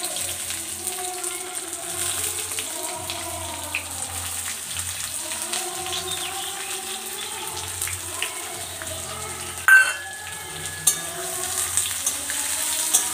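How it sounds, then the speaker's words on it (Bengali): Onions fry in oil with dried chillies and bay leaves, a continuous close sizzle with faint stirring, then a sudden louder crackle and a few scrapes near the end; no one speaks. "এবার আমি এতে পেঁয়াজগুলো সব দিয়ে দিলাম।"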